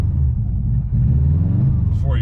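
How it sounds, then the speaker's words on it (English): A Subaru engine idles with a low, steady rumble and builds slightly as it is revved, with no clear rise or hesitation showing, and a brief higher whine near the end. "Whenever you rev it, it hesitates."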